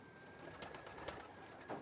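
Racing pigeons coo softly in a loft, a faint, low murmur of calls with a couple of brief louder notes over steady background noise and a thin constant tone.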